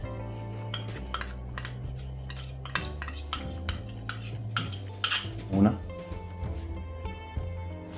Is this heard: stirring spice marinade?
yes